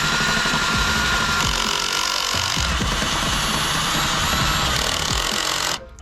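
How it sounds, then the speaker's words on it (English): Loud, continuous grinding of a very large drill bit boring through material, with repeated low thumps and chatter, cutting off abruptly at the end. "now for the largest drill bit I got."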